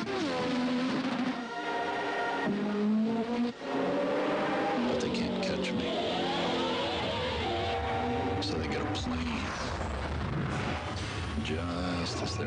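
Nissan 300ZX twin-turbo engine revving and accelerating, loud and continuous with rising and falling engine tones, mixed with booming effects and a voice talking over it.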